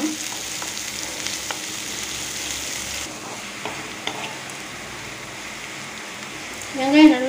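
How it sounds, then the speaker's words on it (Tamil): Onions sautéing in oil in a pan for a Tamil-style viral fish curry, a steady soft sizzle and frying hiss throughout, with a brief louder stir near the end. "வெங்காயம் நல்லா இந்த எண்ணெயிலையும் நல்லா வதக்கிக்கோங்க."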